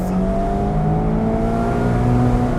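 A Mazda MX5 engine pulling steadily uphill at low speed, a smooth sustained drone with slowly rising engine tones, close and fairly loud, with no talking.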